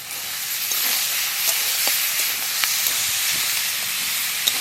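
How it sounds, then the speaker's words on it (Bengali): Green tomatoes with green chillies frying in a pan, a loud steady sizzle and hiss with occasional small pops and stirring scrapes, continuous throughout and with no talk. "টমেটো ভাজা হয়ে গেছে,"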